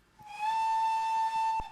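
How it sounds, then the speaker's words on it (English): A short steam whistle pip from an LB&SCR D1 tank locomotive in a train simulator game, a single clear, steady tone held about a second and a half before cutting off sharply. "Oh yes, the whistles"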